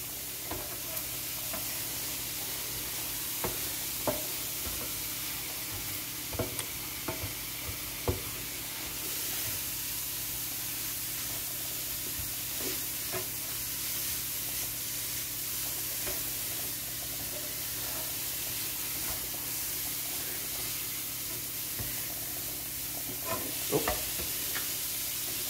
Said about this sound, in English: So you stir it around, stir it